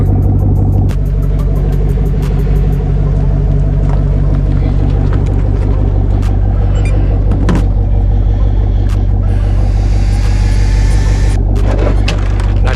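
An ARRMA Outcast 8S 1/5 scale RC truck drives nearby, its electric drivetrain giving a loud, steady whine and rumble that continues throughout with bursts of higher-pitched hiss and clatter toward the end.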